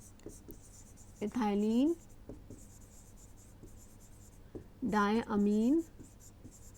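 Marker or chalk scratching across a board while a lecturer on pharmaceutical stabilizers speaks over it in two short phrases, the faint strokes sitting beneath the voice.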